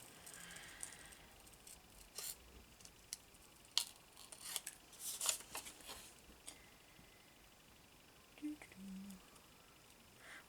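Paper label being cut out by hand with scissors for an envelope pocket craft, giving quiet, sparse snips and crisp rustles spread irregularly through a hushed room.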